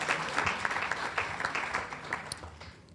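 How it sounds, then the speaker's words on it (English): Applause from an audience at a Tiger Bay of Manatee luncheon on animal welfare, honoring Steve; steady, moderately faint clapping runs throughout the three seconds, with no talk. "Please give him a round of applause."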